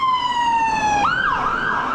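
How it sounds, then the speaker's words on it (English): An ambulance siren wails close by, holding a steady tone that drops and then sweeps up into a rising and falling yelp, loud against low traffic rumble. "No, it's an ambulance."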